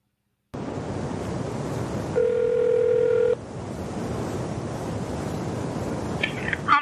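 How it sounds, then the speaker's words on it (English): A telephone tone rings out for about a second over a rushing line hiss before a call to a police department, a steady single pitch that cuts off, then noisy line static continues. "now we're going to move on to an actual phone call with Kelly Carroll of the San Francisco PD."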